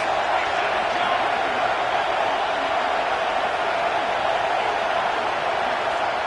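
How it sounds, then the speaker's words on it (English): A massive stadium crowd in an EA Sports College Football video game roars in a dense, unbroken wall of noise that holds loud and steady throughout, with no break or lull. "This crowd trying to make life miserable for this offense."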